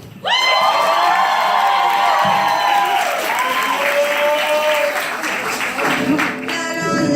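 An audience at a poetry reading claps and cheers loudly, with whoops and high shouts rising over steady applause that fades slightly toward the end.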